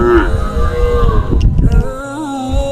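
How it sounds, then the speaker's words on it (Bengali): Cattle in a rural char village in Munshiganj moo loudly and close, one long low call rising and falling across the whole stretch, with farmyard noise underneath and no talking. "দেখুন এখানে অনেকগুলো গরু রয়েছে"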